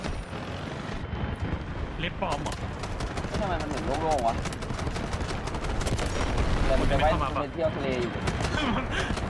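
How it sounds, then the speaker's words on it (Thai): Rapid automatic gunfire crackles in the Delta Force video game, dense repeated shots rattling through a busy battle mix while voices talk excitedly over the action. "เฮ้ยปืนยิงแรงว่ะ"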